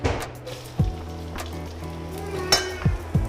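Onions dropped into hot reused oil in a pan for a bhindi masala okra dish, sizzling steadily with a few clinks and stirring knocks, close up and without talk.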